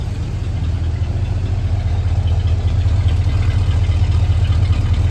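A 1972 Cadillac Coupe deVille V8 idles through a single exhaust, a steady, loud low rumble with an even pulsing beat that holds unchanged from start to finish.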